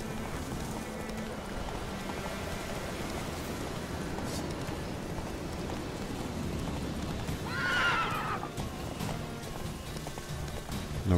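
Roach the horse in The Witcher 3 whinnies loudly once over a continuous bed of galloping hooves and rustling ambience, close and prominent with no speech.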